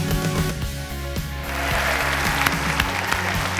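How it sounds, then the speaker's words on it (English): Warm applause from a studio audience on a medical talk show, a dense burst of clapping at moderate volume with faint music underneath. "Thank you for that warm applause."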